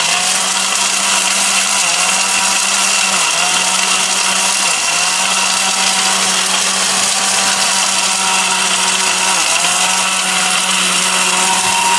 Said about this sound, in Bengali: Steel bush এর blender দেখেন টা একেবারে গুঁড়া করে ফেলেছে